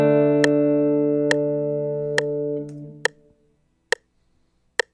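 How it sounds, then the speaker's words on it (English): A software metronome in a music notation program ticks at a steady practice tempo, sharp evenly spaced clicks about a second apart, the first few ringing over a sustained held tone that fades out. "And you'll hear a metronome going."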